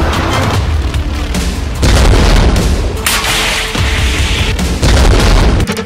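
Explosions from a Hezbollah missile attack on Israel: heavy, loud booms and rumbling blasts follow one another with sharp cracks and a continuous roar between them, dense and forceful throughout, with no speech.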